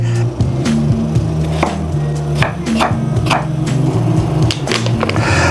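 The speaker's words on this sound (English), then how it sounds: "Now I will take off the skin of the potato, and I will cut it in small pieces" A knife chops peeled potato into small pieces on a board in quick, steady, loud strokes that run without a break from start to end.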